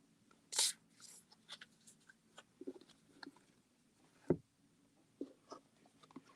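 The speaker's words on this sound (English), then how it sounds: "Because I would love to shuffle these for you." A deck of tarot or oracle cards is shuffled close by during a card reading, giving soft, brief crisp riffles and taps. The short bursts are separated by near silence.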